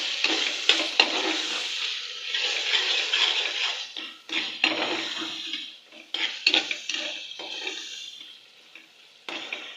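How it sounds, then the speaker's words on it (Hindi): Spices and tomato fry in a pan for chicken shalgam, a loud close sizzle broken by repeated stirring strokes and clinks of a spoon against the metal, with no one talking. "हमें इसकी तब तक बुनाई करनी है जब तक हमारा ये जो टमाटर है थोड़ा सा गल जाए"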